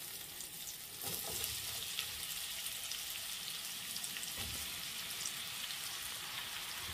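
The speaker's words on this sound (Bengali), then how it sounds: "কুকিং অয়েল অ্যাড করি আর তেল গরম হয়েছে। এখন আমি পেঁয়াজ দিয়ার" Long-sliced onions drop into hot cooking oil, setting off a steady, moderately quiet sizzle with a few soft stirring knocks and no talking.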